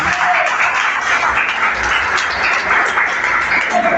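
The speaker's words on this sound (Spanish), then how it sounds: "¿Cuánto le damos un aplauso a su creador?" A church congregation claps for their creator, a loud, continuous wash of hand claps filling the room throughout, with no talking over it.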